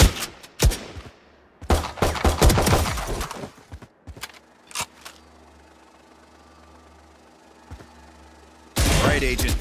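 Rifle and pistol shots in VALORANT's training range, sharp cracks in quick clusters early on, a few isolated shots after a pause, then a loud burst at the end.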